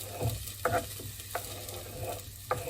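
Cut ginger, garlic and shallots sizzle in a pan for fried rice, with a soft steady frying hiss under several short scraping knocks of a utensil stirring.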